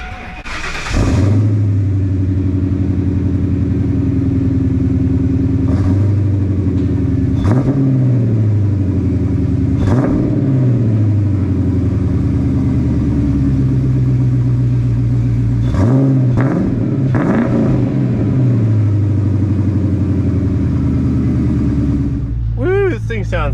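A Ford Mustang 4.6 SOHC V8 with a stainless steel X-pipe exhaust idles with a deep, loud rumble, punctuated by several sharp revs that rise and fall, close by.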